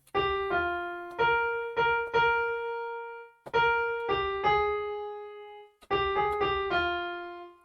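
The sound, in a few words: keyboard playing the blue part of a song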